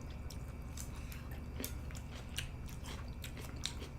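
Someone close by chews a mouthful of pork with kimchi and instant noodles, making soft, wet bites and squishy chewing sounds repeated steadily over a low background hum.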